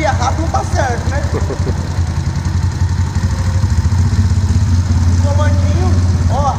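A Honda Fan 125 motorcycle with a 202cc engine runs steadily up close, a low, even engine drone under a voice that keeps talking over it.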